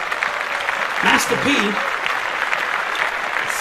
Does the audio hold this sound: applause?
yes